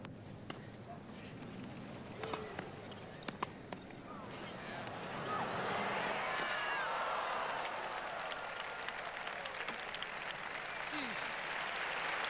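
Tennis crowd at the 1989 US Open breaking into sustained applause after a point, a dense wash of clapping that swells midway and holds steady, with a few scattered claps and thuds beforehand.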